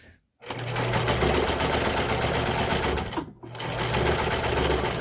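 A sewing machine runs steadily at close range, stitching in reverse and then forward while making a doggy costume, a dense mechanical whir broken by a brief stop between the two runs.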